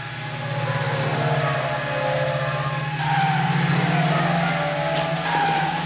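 A Volkswagen car with a 16-valve engine driving past, its engine a loud sustained drone with rising and falling pitch and a shift near the midpoint, continuous with no talking.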